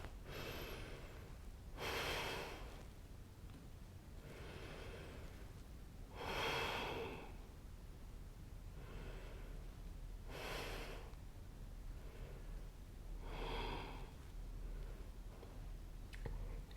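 Slow, even breaths during a yoga shoulder stretch come at regular intervals, each a soft airy whoosh of inhaling or exhaling, close to the microphone and quiet, with still pauses between them.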